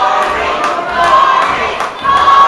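A wrestling crowd roars and cheers in an arena, loud and continuous, with a few thuds and shouts rising out of the noise.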